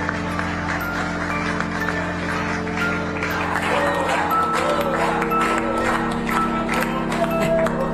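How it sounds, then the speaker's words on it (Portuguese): Crowd applauding at a formal political ceremony, with dense, continuous clapping that lasts the whole stretch while a low murmur of voices runs underneath. "todo mundo batendo palmas, se abraçando"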